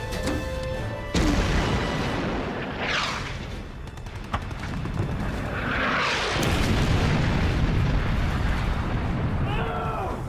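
Naval guns fire in a war movie battle at sea, with heavy booms and rumbling blasts rolling over a steady roar of background noise. Bursts of crackling impact follow, and there is shouting in the scene.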